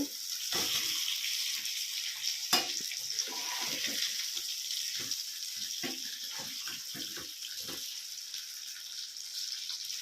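Pink perch fish frying over a slow flame makes a soft, continuous hiss with scattered small pops and crackles, fairly quiet and close, with no talking.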